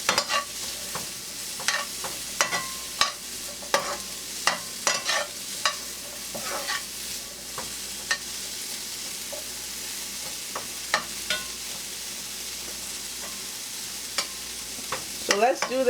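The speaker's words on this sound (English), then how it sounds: "My peppers, my onions, and my hot habanero pepper. And we saute it until it's a little bit tender." Peppers, onions and a hot habanero sauté in a hot pan for scrambled eggs with sausages: a constant sizzle under frequent sharp spatula scrapes and clacks in an irregular stirring rhythm, close and without talk.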